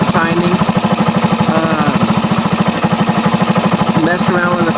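A 1978 Indian moped's small engine runs steadily after carburetor and timing work, a rapid even putter that stays loud and close throughout, with a voice faintly heard over it at moments.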